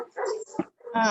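A dog close by gives a short whimper and a brief bark-like yip within about a second, with a person's voice nearby.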